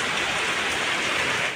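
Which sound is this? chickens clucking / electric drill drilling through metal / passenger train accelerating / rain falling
rain falling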